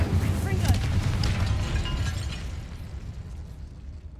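Fire and blasting spells go off in a stone tomb in Hogwarts Legacy, a loud booming burst at the start that rolls into a long, fading rumble with crackling debris, under a speaking voice.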